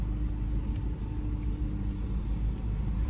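A car engine rumbling steadily while driving, a continuous low drone heard from inside with no change in pace.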